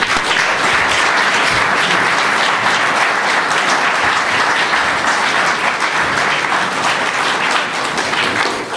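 Sustained, dense audience applause at a lecture, steady and loud throughout, welcoming the speaker to the stage.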